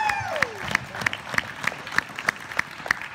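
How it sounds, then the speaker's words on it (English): Convention crowd at a comic event claps, the applause light and fairly distant, with sharp rhythmic claps standing out above a soft crowd murmur over a few seconds. "Let your applause carry him back to his seat, please."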